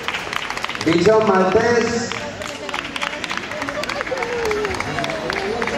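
Applause from the crowd at a national dog show in Castellón, steady clapping running under an announcer's voice over a loudspeaker and general chatter, continuing throughout.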